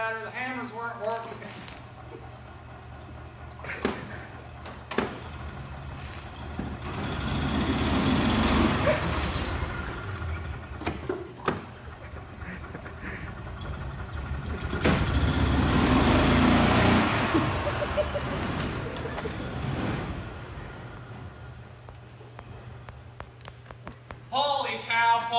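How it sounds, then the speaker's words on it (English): A golf cart engine drones steadily while the cart runs back and forth over tar-stained clothing to compress it, the hum swelling twice as it passes, with people talking nearby. "we had to get the golf cart out to run these babies over, compress it a little better"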